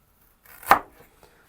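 A knife chops ginger on a cutting board in a home kitchen, one sharp, close, crisp chop standing out against near silence.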